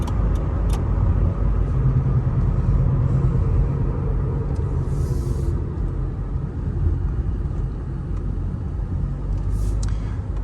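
A 2013 Subaru Impreza 2.0 Premium driving through city streets, with steady low road rumble and engine drone filling the cabin, plus a few faint clicks.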